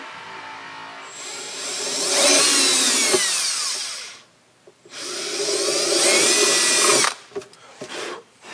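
A power drill bores holes into a box, whining loudly and close up. There are two long, sustained runs with shifting pitch, a brief pause between them, then a few short bursts and stops near the end.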